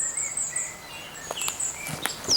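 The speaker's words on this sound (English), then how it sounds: "Listen to that bird song." Birds call outdoors in a quiet natural setting: thin, high chirps and short whistled phrases repeat at a distance, with a faint insect-like buzz and light patter underneath.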